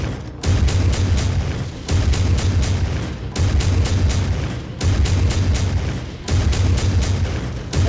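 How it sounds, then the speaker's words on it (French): An autocannon in the MechWarrior 5 video game fires in rapid bursts of heavy booming shots, with four volleys of about six rounds each separated by short pauses. The shots are loud and close, and no one speaks. "On voit que l'autocanon 5 tire pas forcément exactement là où on vise"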